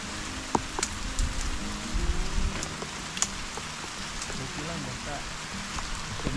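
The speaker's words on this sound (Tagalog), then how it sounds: "Naabot kami ng malakas na ulan." Heavy rain pouring outdoors at a farm harvest, a steady hiss of drops on surfaces with a few sharper spatters, under faint voices.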